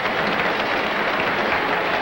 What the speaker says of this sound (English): The Pittsburgh crowd going wild.